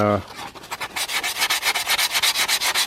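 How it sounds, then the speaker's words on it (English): Hand sanding a foam intake manifold model, a steady run of quick scratchy rubbing strokes, close and regular, with no talk over it. "Just gotta sand it out."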